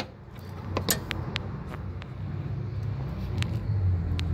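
Engine belt line of a Honda CR-V running at idle, with a faulty water pump pulley: a steady low drone and rumble carrying faint intermittent ticks and chirps, close up, with no one talking.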